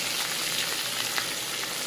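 Fish fries in oil on a flat iron griddle with a steady, even sizzle and crackle, close and moderately quiet, with no voices.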